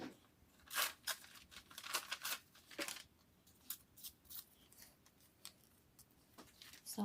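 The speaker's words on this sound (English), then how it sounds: "I'm tearing some smaller pieces of it" Handmade vellum paper torn into small pieces by hand, a series of quick dry rips and crinkles at an irregular pace, close but fairly quiet, with no voices.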